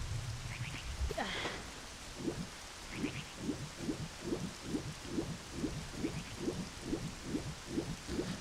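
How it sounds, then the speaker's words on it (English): Rain falls in a Zelda video game, a steady hiss across the scene with a regular rhythm of soft pattering beats repeating throughout, moderately quiet and without speech. "Do I just stay where it's rainy so that the lake fills up?"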